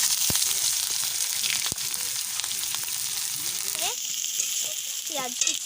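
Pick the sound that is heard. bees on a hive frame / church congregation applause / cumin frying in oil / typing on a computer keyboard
cumin frying in oil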